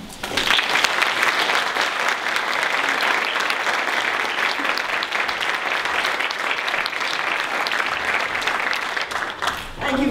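An audience applauds loudly and continuously for about ten seconds to welcome Shirley Franklin, CEO of Purpose Built Communities, to the stage at a leadership event, the dense clapping holding steady throughout.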